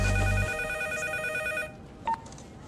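An office telephone rings in a Spanish-language comedy scene, a steady electronic trill that runs about a second and a half before cutting off, with a brief beep after it.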